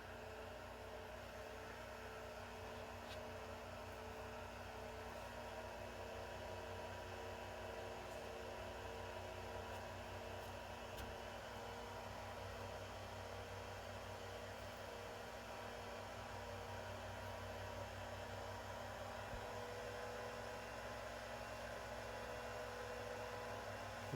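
Small 40mm cooling fans in a Supermicro SuperServer SYS-E200-8D server spin at high RPM with a steady, loud, close whine and rushing air, swelling slightly toward the end.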